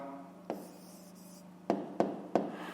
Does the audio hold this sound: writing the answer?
yes